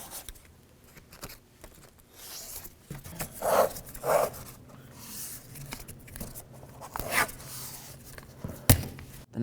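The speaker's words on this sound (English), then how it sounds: "Let's tape up this window." Tape is pulled and torn and pressed onto a truck door window on a 1988-2002 GMC Sierra 1500, giving close ripping and crinkling bursts with handling rustles and a sharp knock near the end.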